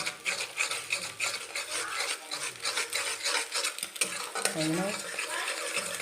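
Two eggs are stirred and fried in a pan for egg tadka, with repeated close scraping and stirring strokes over a light frying hiss and a faint voice now and then.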